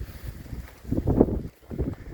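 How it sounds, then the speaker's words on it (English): Wind blowing outdoors among trees, a low rushing roar that swells and fades in gusts, close and buffeting with no voices. "The wind's picking up."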